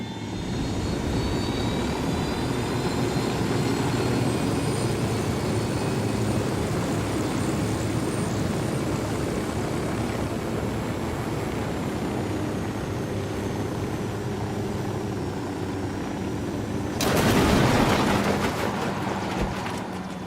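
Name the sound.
helicopter flying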